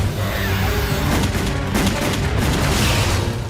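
Cannon fire from a Tremors 4 movie trailer: a dense, continuous barrage of booming blasts over a rumbling score, loud and sustained for several seconds with no speech.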